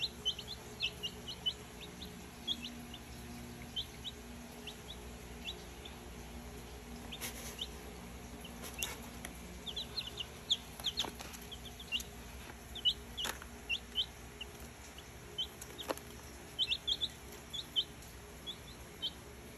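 Many week-old broiler chicks peep and cheep continuously in high, rapid chirps, with scattered clicks and a low steady hum underneath.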